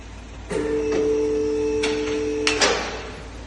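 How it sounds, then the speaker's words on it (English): A vehicle lift in a garage lowers a car during an MOT class 4 test with a steady, loud mechanical whine and hum. Clunks and knocks mark the start and the stop of the descent. "I'm going to let the vehicle down"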